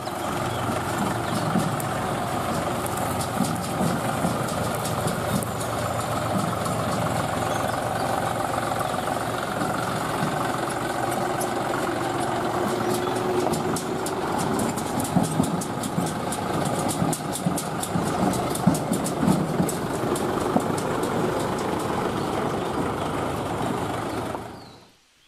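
A tractor engine runs steadily for about 25 seconds as it is turned around, a continuous close diesel-like drone with some rattle that cuts off at the very end.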